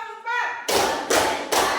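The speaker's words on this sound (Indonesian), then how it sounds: "Tepuk 1, tepuk 2, tepuk 3, tepuk 4" A classroom of students claps in a counted pattern, three sharp group claps spaced evenly after a spoken lead-in, each one loud and close.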